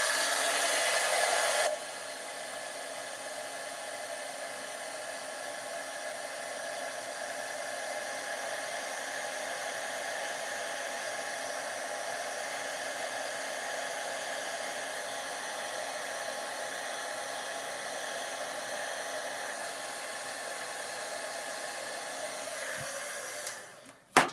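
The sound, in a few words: heat tool drying card-making layer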